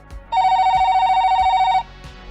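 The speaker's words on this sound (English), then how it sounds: "the sound of a digital phone ringing just straight up" A digital phone rings with one sustained electronic trill lasting about a second and a half, loud and close, over a soft rhythmic background thump.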